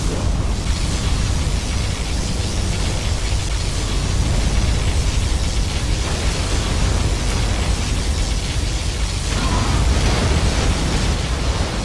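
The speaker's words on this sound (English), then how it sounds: "Our particle cannon has been activated." A particle cannon blast from the Command & Conquer Generals Zero Hour video game: a continuous, loud, noisy roar of rushing energy that holds steady for the whole stretch with no voices.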